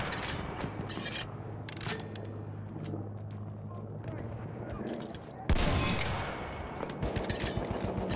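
Dense gunfire in a Battlefield 1 match: rapid overlapping shots and bursts run throughout, with a sharp, louder volley halfway through and continued firing after it.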